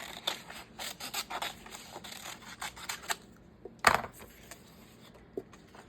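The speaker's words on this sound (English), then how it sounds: "what we'll do is we'll cut out these little cupcakes" Scissors cutting out small paper cupcake shapes, a run of quick close snips and crisp paper rustles, then a brief pause and a few more isolated cuts.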